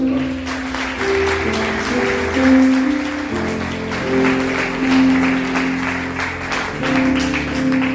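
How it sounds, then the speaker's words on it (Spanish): A church congregation claps steadily and loudly for several seconds while music plays underneath, with a brief voice heard in the mix. "Denle un aplauso al Señor por eso."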